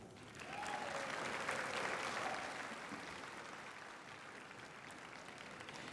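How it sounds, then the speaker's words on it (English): Audience applause in a large hall at a university fall commencement ceremony before the procession, a broad sustained crowd clapping that swells, peaks and then tapers to a softer steady patter. "I think some applause is in order for all of us"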